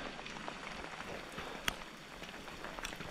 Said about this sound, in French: il pleut bien